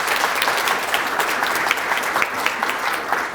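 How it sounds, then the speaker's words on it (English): Steady applause from an audience at a psychiatry department graduation and awards ceremony, many hands clapping densely and evenly for the full stretch with no pause. "let's give a round of applause for our Idaho colleagues"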